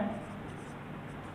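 Marker or chalk scratches steadily across a board while someone speaks Hindi over it, working through a pie chart percentage problem in a maths lesson.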